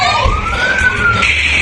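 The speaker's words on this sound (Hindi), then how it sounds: "आप देख रहे हैं फायर ब्रिगेड की गाड़ियां मौके पर पहुंच रही हैं।" Fire brigade vehicle siren wailing in a rising and falling sweep, loud and close over a rumbling street background.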